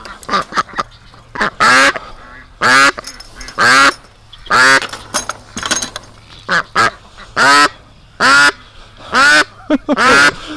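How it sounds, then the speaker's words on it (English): Loud, harsh quacks from a female duck ring out close by in a rapid series of about a dozen bursts with short pauses between, no voices. "It's unbelievable how loud a female duck is."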